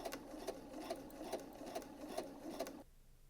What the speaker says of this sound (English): you're going to stitch right in that crease line that we have there